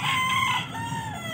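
A rooster crows loudly and close at a gamefarm in the Philippines, one rising-and-falling call that fills the short moment with no talking.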